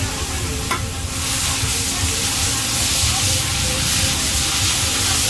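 Loud, steady sizzling and scraping as pad thai noodles, about 10 kilograms at a time, are stir-fried in a giant wok, continuous hiss throughout with no talking.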